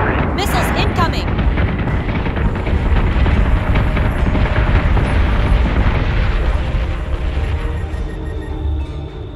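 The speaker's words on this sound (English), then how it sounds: "Missiles incoming!" Incoming missiles explode in Battlestar Galactica: Deadlock, a loud, sustained roar of overlapping blasts and rumbling that fills the whole stretch, with voices mixed in.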